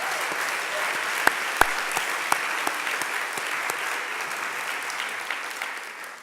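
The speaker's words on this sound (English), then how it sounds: "Let's give the Philanthropy Roundtable a round of applause." Audience applause at a philanthropy prize ceremony for the Philanthropy Roundtable, a full, sustained round of clapping from a large room, with a few sharper claps standing out near the start, fading slightly at the end.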